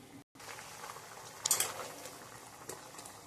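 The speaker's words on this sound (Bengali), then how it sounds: "একটু ফুটে আসবে, ঝোলটা একটু কমে যাবে" Parshe fish curry with poppy seed, mustard, green chilli and tomato simmers in a pot, giving a faint, steady bubbling hiss with a brief louder sputter midway.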